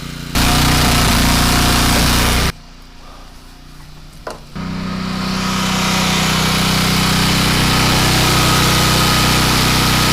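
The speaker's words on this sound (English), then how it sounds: "I think it's a Honda clone, I think is what the motor is." A small Honda clone engine runs loudly and steadily, cuts out for about two seconds, then restarts and settles back into a constant close drone.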